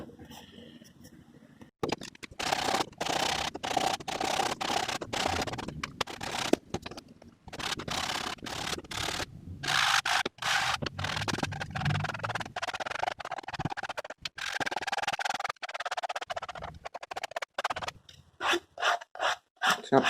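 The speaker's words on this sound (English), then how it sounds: "sand a little bit here around where it's going to glue" Hand sanding of climbing shoe rubber around the gluing area during a home resole, close rasping strokes in quick irregular bursts with brief pauses.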